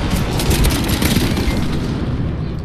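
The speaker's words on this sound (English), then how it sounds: "They're throwing flashbangs back." Flashbang grenades going off during a shooter video game, a dense sustained roar of booming blasts and gunfire-like bursts filling the whole stretch at high volume.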